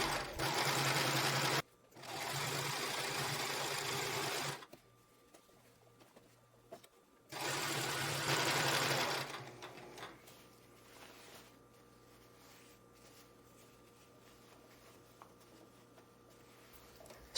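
A domestic sewing machine stitches elastic onto fabric boxers in two loud bursts of several seconds each, separated by a brief pause, then stops, leaving a quiet room hum.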